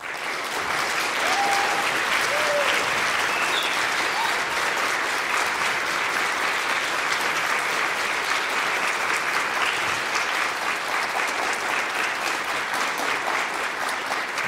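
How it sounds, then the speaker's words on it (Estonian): An audience at a boys' choir's 20th anniversary celebration gives the choir's parents a long, even round of applause, dense clapping that holds steady for over ten seconds in a large room. "Et teeme oma vanematele ühe suure aplausi."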